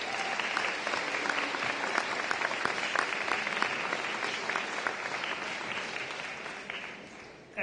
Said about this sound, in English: round of applause for our athletic boosters